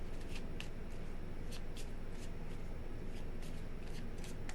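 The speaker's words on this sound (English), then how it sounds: "3 shuffles." Tarot cards being shuffled by hand for a Gemini reading, a run of close, crisp riffling bursts and soft slaps repeating in irregular rhythm over a low background rumble.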